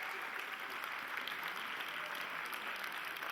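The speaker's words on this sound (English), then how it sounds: "Let's give our cast a big round of applause," Audience at a secondary school play's closing night applauds the cast, a steady, dense wash of clapping that holds evenly for several seconds at moderate distance.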